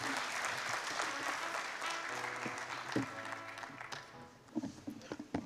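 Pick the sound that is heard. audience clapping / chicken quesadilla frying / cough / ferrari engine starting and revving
audience clapping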